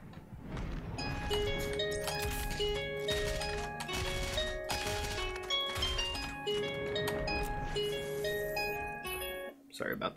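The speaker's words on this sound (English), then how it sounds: "That's my alarm to put out the videos for the day." A phone alarm rings with a bright, melodic chiming tune that loops steadily for about ten seconds, loud and continuous over faint background sound.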